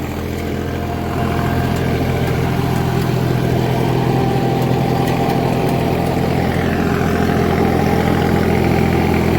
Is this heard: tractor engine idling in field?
yes